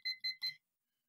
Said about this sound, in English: Why is it beeping so much?